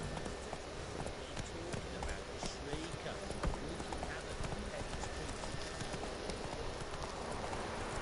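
Hooves of Roach, Geralt's horse in The Witcher 3: Wild Hunt, pound in a fast steady galloping clip-clop over several seconds, close and continuous, with game ambience beneath.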